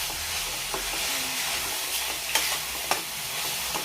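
Finely chopped coriander being stirred into radish bhaji (mooli sabzi) in a pan, with a soft continuous sizzle and a few faint scraping clicks of the spoon, fairly quiet throughout.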